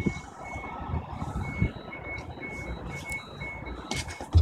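A steady series of high electronic beeps repeats at an even pace over a low engine rumble from a tugboat, like a vehicle's reversing alarm.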